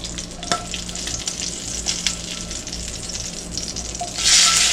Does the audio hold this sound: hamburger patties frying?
yes